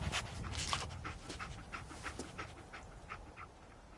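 Dogmeat, the dog companion in Fallout 4, pants steadily and rapidly up close, the breathy rhythm continuing throughout the clip without talk.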